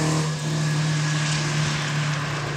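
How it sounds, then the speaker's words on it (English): A loud, sustained intake roar from an Alfa Romeo Giulietta SZ with Weber carburetors fills the clip, a steady hard-driving rumble and whoosh of the car at speed, with no talking. "When you open up those Webers, they just suck in so much air and fuel that it's deafening"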